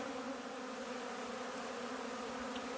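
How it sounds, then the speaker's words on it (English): Bees swarming around wet honey supers on a truck flatbed, a dense, steady buzzing hum that holds constant throughout. "the bees are going wild"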